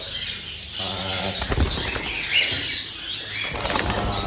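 Rapid flapping of a bird's wings as it is held and handled, a loud close flurry of beating wings that rises and falls over a busy noisy background.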